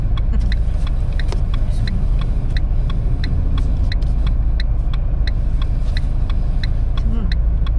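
Car reversing slowly in a straight line during a driving lesson, a steady low engine rumble at close range with regular faint ticking throughout.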